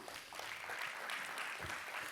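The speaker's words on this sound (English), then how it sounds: "Another round of applause for him." Audience applause fills a church conference hall, a steady, fairly distant wash of clapping with some shouts mixed in.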